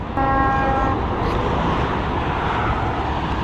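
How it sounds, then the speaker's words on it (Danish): On a motorway bridge near Nijmegen, a truck blasts a loud, sustained horn for about a second as it passes a marching column, followed by the continuous roar of heavy motorway traffic. "Nu er vi over en motorvejsbro, hvor at mange lastbiler de dytter"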